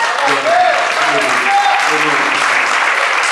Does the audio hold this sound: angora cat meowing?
no